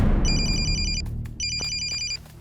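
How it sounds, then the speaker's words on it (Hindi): A telephone rings in two bright, warbling bursts over low background rumble, with a short gap between the rings. "एक मिनट भाई, फोन आया।"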